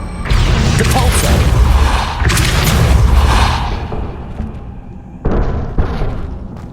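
A Depulso force-push spell cast in the Hogwarts Legacy video game lands as a loud, booming blast with a rumbling tail that fades, followed by a second sharp burst near the end.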